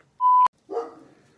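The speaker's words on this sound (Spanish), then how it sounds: "este güey es el perro del vecino" A neighbour's dog gives one sharp bark, heard close and clear, just after a brief steady electronic tone, with a short fading echo and no talk.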